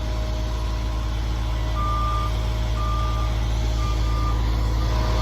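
A cement truck backs up at a construction site, its reversing alarm beeping in a slow regular pattern over a loud, steady diesel engine rumble, with no talk.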